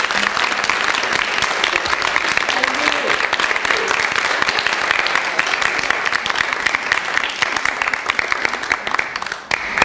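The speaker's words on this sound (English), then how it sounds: "So I feel like we need a round of applause." Sustained, loud audience applause at the close of a talk on healing through dance, many hands clapping continuously and evenly, with a few voices audible in the crowd.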